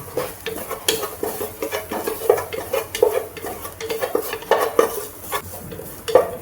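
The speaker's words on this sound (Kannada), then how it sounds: "ಚೆನ್ನಾಗಿ ಫ್ರೈ ಮಾಡಬೇಕು ತೆಂಗಿನ ತುರಿ ನೋಡಿ" Grated coconut stir-fried in a pan with turmeric and curry leaves for a Tulu-style chicken dish, a spatula scraping and clinking against the metal in quick irregular strokes over a soft, steady sizzle, close and without talk.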